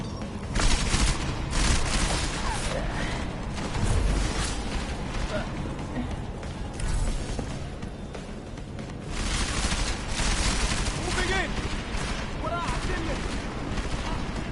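A video game firefight brings heavy gunfire and booming flashbang explosions in repeated loud waves, with rumbling blasts and rattling shots under intermittent voices.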